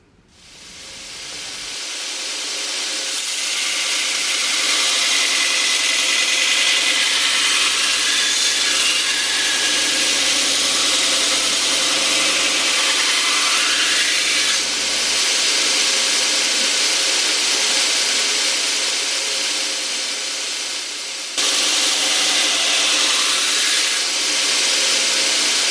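A 2x72 belt grinder grinds a knife blade steadily for the whole stretch, a loud continuous abrasive hiss and rasp with slight shifts as the blade is pressed and moved, briefly dropping before resuming.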